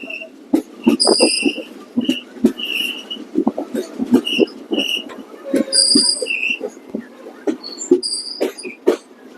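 An Indian passenger express, the Kavi Guru Express, runs toward Bardhaman Junction, heard as rapid irregular wheel clacks and rattling rail thumps alongside high, repeated chirping tones, loud and close with no talk.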